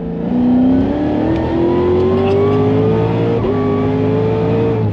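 An 1150 hp Cadillac CTS-V accelerates hard in third gear as traction control cuts in, giving a loud, close engine note that climbs steadily in pitch over several seconds with no talking.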